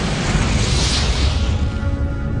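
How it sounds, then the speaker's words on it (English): A deep, roaring supernova explosion rumble swells loudly and holds, a dense booming wash with no voices. "they blew up in a tremendous explosion called a supernova"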